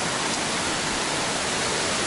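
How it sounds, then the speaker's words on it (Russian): Orekhovsky waterfall near Sochi pours down from a great height, a dense, loud, steady broadband roar of falling water with no pauses, filling the whole scene on its own. "Водопад Ореховский."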